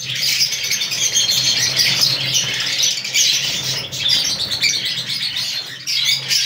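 A crowd of pet birds in an aviary chirping and squawking continuously, close and loud, with dense overlapping calls and occasional wing flutters.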